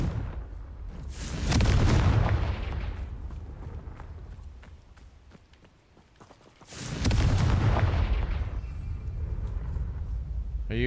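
A Confringo explosion spell in Hogwarts Legacy sets off two loud, rumbling booms with crackling debris. Each blast swells, lingers and slowly fades before the next one hits.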